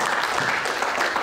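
A church congregation claps and cheers in a dense, continuous burst of applause.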